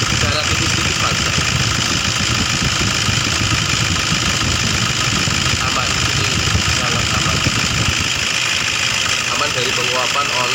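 A two-cylinder diesel engine idles steadily and close by, a continuous loud mechanical drone with fine rapid knocking throughout, and no pauses or changes in pace.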